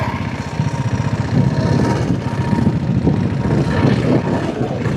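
A modified vintage motorcycle with a diesel engine chugs steadily nearby in Bangalore, a dense, rhythmic low-pitched drone with a faint mechanical rattle. It runs alone, with no talk.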